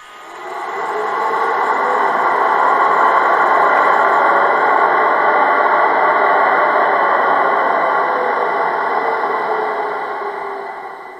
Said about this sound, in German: nun der Lüftersound, bei dem werden automatisch die Lüfterräder oben im Dach per Motor in Bewegung gesetzt